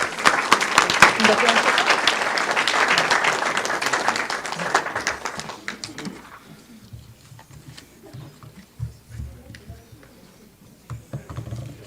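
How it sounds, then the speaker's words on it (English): An audience bursts into loud applause that lasts roughly five seconds and then dies away. Scattered claps and talking carry on quietly afterward. "So please give them a round of applause."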